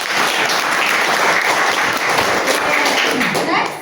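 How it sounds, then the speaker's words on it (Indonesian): A classroom group applauds a student's correct answer, a dense, even burst of clapping from many hands that holds steady for several seconds before tapering at the end. "Kita berikan aplaus."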